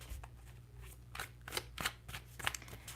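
Tarot cards shuffled by hand in a quiet room, a run of soft riffling bursts and sharp card snaps in an uneven rhythm, close and fairly quiet with no talking.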